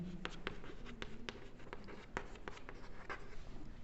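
Quiet scratchy strokes and taps come from writing on a board during a maths lesson. The short marker or chalk marks are irregular, faint and close, with no voices over them.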